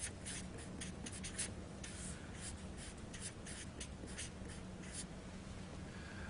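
Pen or marker scratching steadily on paper or a board while writing out the factors of a maths inequality, a close, continuous run of quick strokes with no talking.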